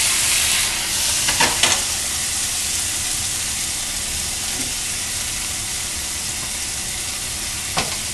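Garlic sizzles steadily in a hot pan, a loud continuous frying hiss with a few brief clinks and scrapes as it is moved around, no voices.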